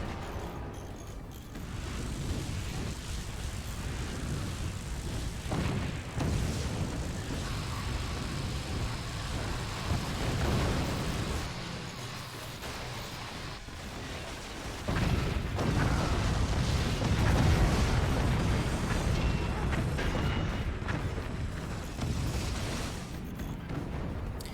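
A giant vehicle in a video game battle collapsing after laser fire, a long loud stretch of rumbling, grinding destruction and heavy impacts that swells louder near the end.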